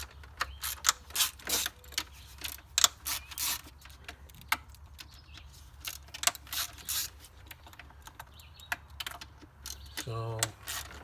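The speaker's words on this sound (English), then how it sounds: "we'll get our 8 millimeter. Crack them all loose." Ratcheting 8 mm socket wrench loosening ignition coil bolts on a 2008 Ford Escape engine, a scatter of sharp clicks and metallic clacks in irregular bursts, close up, with a brief tonal buzz near the end and no speech.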